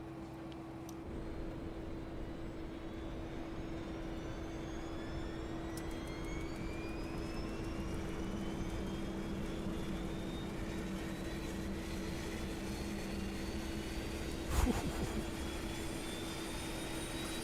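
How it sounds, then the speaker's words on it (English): APU of a JustFlight Fokker F28 airliner spooling up in a flight simulator: a steady, even turbine hum and whine with rising tones, running alone throughout, with one brief click near the end. "the sound here for the APU startup is so good"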